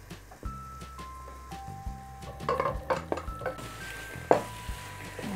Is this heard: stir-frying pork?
yes